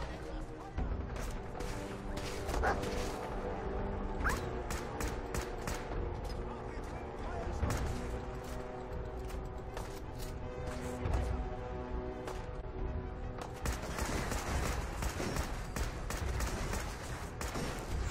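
Rapid gunfire crackles throughout amid chaotic Fallout 4 game noise, with bursts of shots and impacts under a busy, continuous background.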